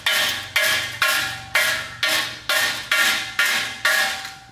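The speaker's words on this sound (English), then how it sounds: "take that hammer right there and just hit kind of on the edge" A steel ball peen hammer knocks slag off metal in eight sharp, evenly spaced metallic strikes. Each strike rings briefly and then decays, loud and close, with no talk.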